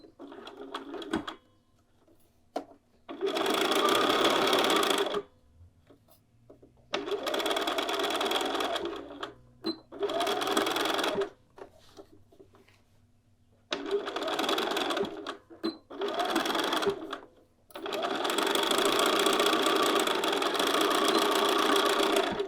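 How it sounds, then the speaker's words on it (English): A sewing machine runs across the shoulder seams of a bodice during garment assembly, loud close whirring in several separate bursts of a few seconds each, with quiet gaps between them. "Now we're just going to sew across the shoulder seams."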